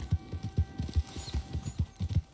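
A horse in Red Dead Redemption 2 trots or gallops, its hooves falling in a fast, steady clip-clop rhythm of about a dozen thuds, moderately close and heard alone.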